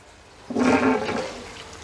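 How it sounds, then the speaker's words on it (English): Water surges through aquaponics pipes after a valve is opened, a sudden rushing gurgle that starts loud and gradually settles into a steady flow. "get a bit of water flowing through here"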